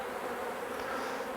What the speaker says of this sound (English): bees aren't terribly happy